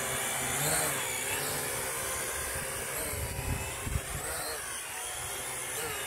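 A newly gifted small drone hovers and flies nearby, its steady high-pitched propeller whine holding throughout with slight shifts in pitch, plus a few brief low bumps partway through.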